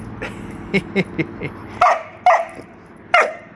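A pet dog named Spirit barks in a run of short, sharp yaps, with about five quick barks followed by three louder, fuller ones, close by and with no talk over them.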